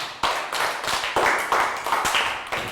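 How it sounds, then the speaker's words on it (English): A small class of Year 3 pupils claps in a quick, uneven round of applause, with sharp individual claps standing out close by over a brief burst of group clapping. "Big round of applause for down."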